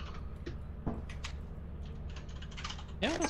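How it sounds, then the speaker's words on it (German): Soft, scattered typing on a computer keyboard during an online game session, faint and uneven keystrokes under quiet background voices. "man hört dich sogar tippen"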